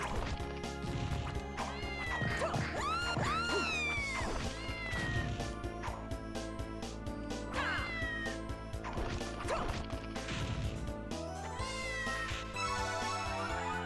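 A cat in the video game Haunted Castle meows in several short rising and falling cries over steady in-game music and clattering effects.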